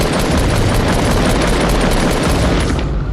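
Gunfire from a powerful video game weapon: a loud, continuous barrage of rapid shots with booming impacts, dense and unbroken throughout, easing slightly at the end, no voices over it.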